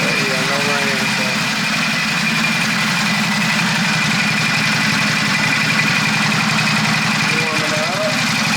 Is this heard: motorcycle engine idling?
yes